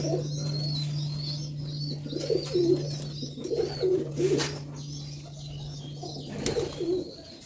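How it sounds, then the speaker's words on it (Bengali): Mayurpankhi pigeons coo softly in low, throaty bursts, several calls spaced irregularly over a faint steady hum, with a few light chirps nearby. "সুন্দরী পায়রার বাচ্চা দুটো বেরিয়ে গেছে বাইরে"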